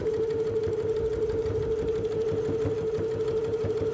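Sewing machine stitching a zipper pouch at medium speed, a steady close mechanical hum with a fast even whir running unbroken throughout, no voices.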